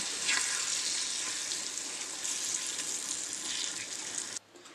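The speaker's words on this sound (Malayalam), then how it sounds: "നമുക്കിതിലേക്ക് ചെറുനാരങ്ങ മുറിച്ചത് ഇട്ട് കൊടുക്കാം." Cut lemon pieces with their juice frying in oil with curry leaves for lemon pickle, giving a loud, steady hissing sizzle that cuts off abruptly near the end.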